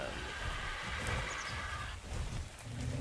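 Steady rain in the ARK survival game, a constant close hiss with low rumbling underneath and a faint tone running through it, no talking.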